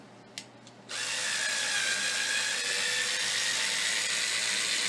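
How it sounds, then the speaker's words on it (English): A pink screwdriver runs a screw down into the holes of a homemade canjo. After a short knock, a steady, close whirring drive sound continues without a break. "take a screw and run it down into these holes"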